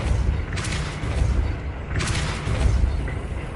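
In Hogwarts Legacy on PS5, a Depulso spell goes off as a pair of deep, booming blasts about a second and a half apart over a dense, rumbling game soundscape.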